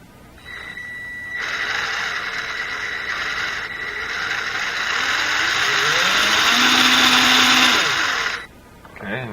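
An RC crawler's drivetrain spinning with a Traxxas drive shaft, a loud steady high-pitched electric motor whine and gear buzz lasting several seconds, a rising tone near the end before it cuts off abruptly.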